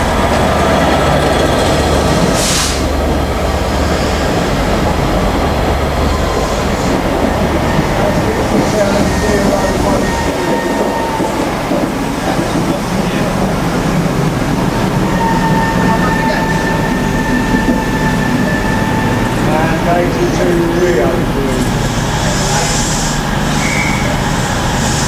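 A diesel-hauled train, class 67 locomotive 67013 leading, rumbles past nearby in the rain with a deep engine drone and rattling wagons, a few squealing and hissing bursts over the continuous roar.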